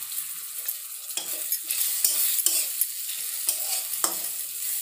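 Tomatoes go into a frying spice paste, giving a continuous close sizzle broken by repeated stirring scrapes and clacks in an uneven rhythm.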